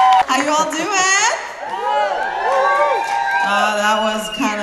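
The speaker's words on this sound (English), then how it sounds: "Give her a round of applause" A salsa convention audience in Montreal cheers and whoops for a young dancer, Leah Duque, with excited voices rising and falling continuously at close range.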